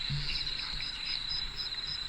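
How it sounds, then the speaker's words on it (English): A frog calls at night in a private cemetery with a steady, rapid, high-pitched pulsing trill that runs without a break. It sounds moderately faint, with no voices. "I think it's a frog."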